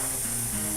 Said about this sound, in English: I open up the airbrush all the way